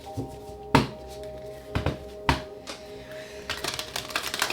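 Tarot cards are shuffled in sharp, separate slaps and riffles with uneven gaps, close and crisp, and the clip ends in a quicker run of light flutters.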